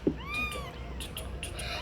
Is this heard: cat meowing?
yes